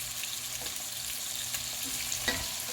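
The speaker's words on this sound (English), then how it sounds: "We're getting a nice little char on these onions." Onions charring in a hot pan for hamburger steak, giving a steady, soft sizzle and crackle throughout, with one brief louder pop near the end and no talking.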